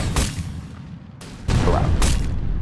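Viral Bombs attack in the Horus Heresy Legions card video game: several sharp booming impacts in quick succession over a rumbling backdrop, loud and close, with no talking.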